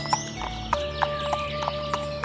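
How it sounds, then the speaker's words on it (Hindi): Cartoon horses being ridden clip-clop along in a quick, even rhythm of hoof taps over a sustained musical background, with no voices. "दोनों अपने घोड़ों पर सवार होकर विजयनगर की ओर चल देते हैं।"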